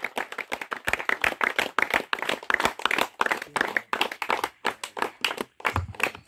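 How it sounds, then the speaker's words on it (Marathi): An outdoor crowd at a rural tennis-ball cricket prize ceremony claps for a bowler, a loud run of sharp irregular hand claps that keeps going for several seconds, with no talking over it. "जोरदार टाळ्या झाल्या पाहिजे त्या सिद्धेश साठी."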